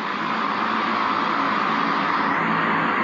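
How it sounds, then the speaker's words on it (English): A sound machine plays airplane propellers: a steady, dense whooshing drone with a low rumbling undertone, continuous and even throughout with no pauses. "That's the props on an airplane."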